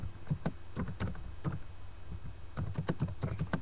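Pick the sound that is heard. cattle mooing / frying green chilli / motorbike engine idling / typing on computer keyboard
typing on computer keyboard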